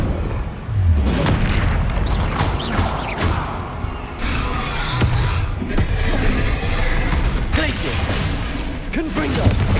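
Rapid Confringo fire spell blasts and combat in Hogwarts Legacy, loud rumbling booms and crackling impacts that overlap in a dense, continuous barrage, with a voice calling out over the action.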